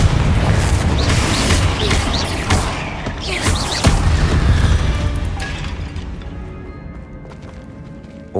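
Bombarda and Confringo spells exploding in Hogwarts Legacy, a loud run of booming blasts and crashes for several seconds that fade toward the end.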